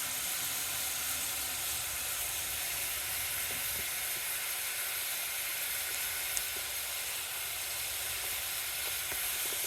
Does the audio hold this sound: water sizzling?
yes